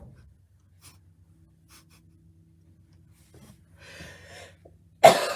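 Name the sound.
person coughing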